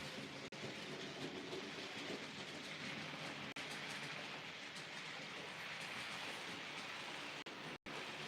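A Class 37 diesel locomotive train passing on a stormy day, a steady rolling rumble with clickety-clack wheel noise and wind or rain wash throughout, continuous and fairly distant, no voices.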